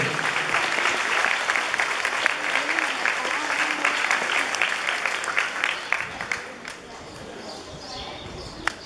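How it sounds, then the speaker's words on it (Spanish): Applause from the audience at a school diploma ceremony, a steady crowd clapping that thins out toward the end, with some faint voices mixed in. "Hemos muy buen aplauso para él."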